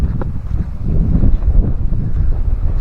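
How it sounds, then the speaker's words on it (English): Wind at a mountain lake campsite at dusk: steady, low, rumbling gusts buffet the microphone with no talking. "Still windy."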